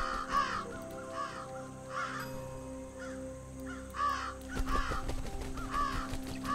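Crows caw repeatedly near a cabbage in a video game, loud harsh calls recurring every second or so over a busy game soundtrack with layered electronic tones.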